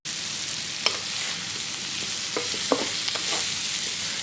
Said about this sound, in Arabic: وانا كنحرك بشي معلقه ديال الخشب